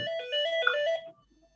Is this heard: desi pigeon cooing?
no